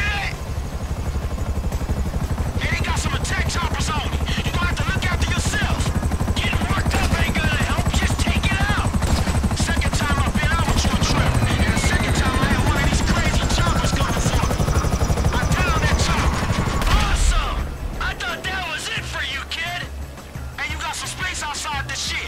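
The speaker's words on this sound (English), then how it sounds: "Choppers on me!" Several helicopters roar continuously, loud and close, over sharp bursts of gunfire during the Merryweather freighter heist mission in GTA V. Voices come through intermittently, and the rotor din drops off near the end.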